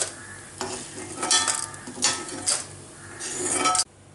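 Grated coconut is stirred and roasted in a hot pan for coriander chutney, with a spoon scraping the pan in a few separate strokes over a soft, steady sizzle.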